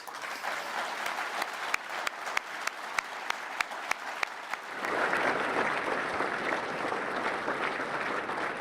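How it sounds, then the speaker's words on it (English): Applause from a seated audience honoring ministers and members of Parliament at a public event, starting with a few sharp individual claps that swell into steady, dense clapping from the whole crowd. "I want you to give them a round of applause, please"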